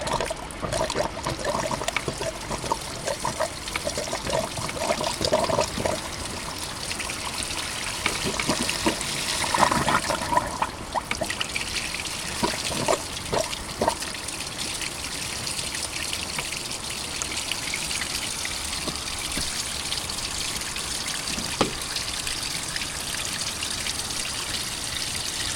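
Steady trickling and splashing of coolant water draining from a BMW E36 heater hose during an M54 engine swap, continuous and fairly close, with a few brief clanks and knocks along the way.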